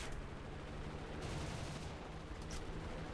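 Cannon fire from a Ta 152 H-1's 30mm guns in War Thunder comes in short bursts over a steady engine drone, faint and a little distant in the mix.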